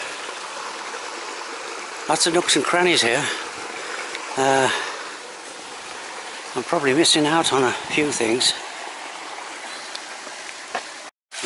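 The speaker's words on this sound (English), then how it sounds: "The sound of running water." Running water in a botanical garden in Malaga, a steady soft stream-like hiss and trickle throughout, close and even, with someone talking over it for much of the time.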